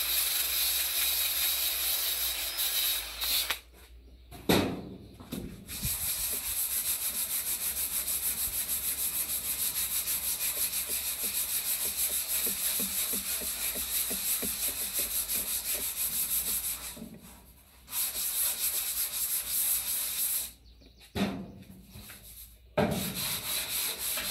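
A car's rear body panel is hand-sanded during bodywork prep without a power sander, giving a steady, close rasping rub that runs alone for long stretches, broken by a few brief pauses.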